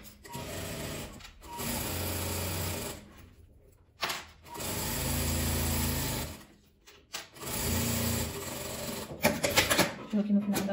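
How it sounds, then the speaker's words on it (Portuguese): Sewing machine stitching a seam on a patchwork denim pouch, running in several steady bursts of a second or two with brief pauses between, close and fairly loud, with a voice talking at times. "Agora eu vou passar uma costura aqui do outro lado também."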